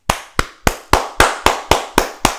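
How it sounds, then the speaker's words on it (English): One person clapping alone, nine crisp, evenly spaced claps in a steady rhythm, close and clear with no voices. "I have to give him a round of applause for that"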